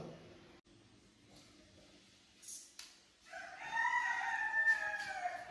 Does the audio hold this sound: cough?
no